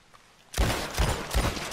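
Revolver fire in Red Dead Redemption 2, three loud booming gunshots spaced evenly at a slow pace, each with a short rumbling tail, after a quiet start.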